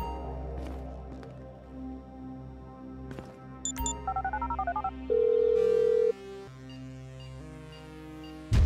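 Phone call dialed in Grand Theft Auto V: a run of short, evenly spaced keypad tones, then a long steady ringing tone, set over game background music and ambience.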